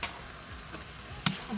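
Glass noodles with black pepper and egg being stir-fried in a pan in Laos: a soft, continuous sizzle broken by a sharp scrape of the utensil.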